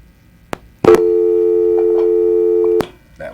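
A telephone line tone sounds during a call-in radio show while a caller is being connected: a loud, steady electronic tone holds for about two seconds after a short click, then cuts off abruptly.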